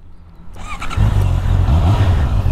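A 2021 Honda CB650R motorcycle is started on a snowy car park. Quiet clicks lead into the engine catching after about a second, then a close, loud, steady idle rumble that holds to the end.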